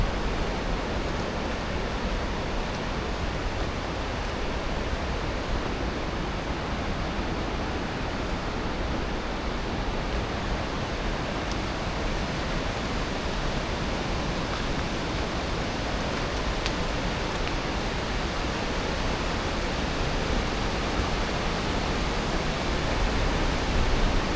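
Water gushing out of the mouth of Tham Nam Lod Xe Bang Fai cave, a steady, dense rushing roar that stays loud and even throughout with no voices.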